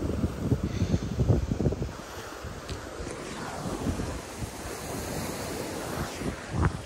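Sea waves surge and wash onto a beach at Mangalore under gusting wind, breaking in repeated rolling swells at close range, with no speech.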